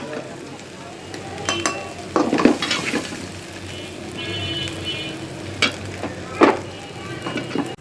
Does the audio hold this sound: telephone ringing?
no